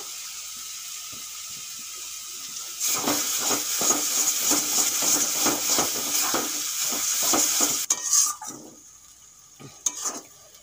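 Taro leaves with turmeric are stirred in a pan over low heat, with rapid rhythmic scraping strokes against the metal over a soft sizzle, close by, ending in a few clanks.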